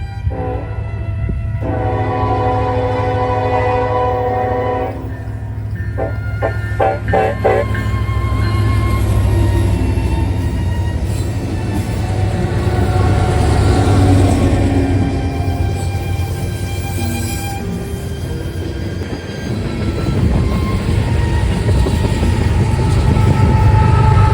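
A Union Pacific freight train led by two SD70M locomotives passes on the Enid subdivision; a loud horn blast opens, followed by a sustained rumbling engine drone and wheel noise that swells and fades.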